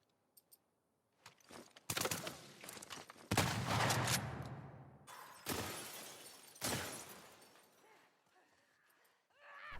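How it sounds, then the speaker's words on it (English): Revolver shots fired in the video game The Last of Us Part II, a few sharp loud bangs with trailing echoes spread over several seconds, separated by quiet gaps. "So boom, I fired my revolver"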